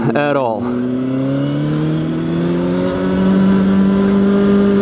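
A CFMOTO 750SR-S motorcycle accelerates hard on a street. Its engine note climbs steadily in pitch after a quick shift, loud and close, with wind noise underneath.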